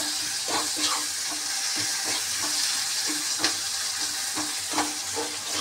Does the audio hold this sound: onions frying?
yes